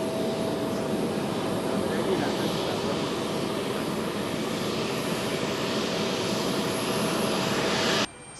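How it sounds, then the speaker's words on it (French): An Air Burkina Embraer E190 airliner sits on the tarmac at Ouagadougou international airport, its jet engines giving a loud, continuous roar and whine that holds steady for about eight seconds before cutting off sharply. "Le nouvel avion de Air Burkina s'est posé ce 28 septembre sur le tarmac de l'aéroport"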